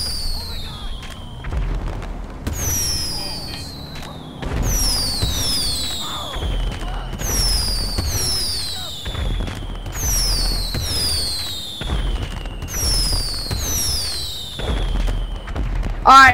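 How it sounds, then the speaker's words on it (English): Repeated video game fireworks whistle and burst in a steady rhythm, each launch followed by a crackling boom, loud and continuous throughout. "I need those fireworks flying ice"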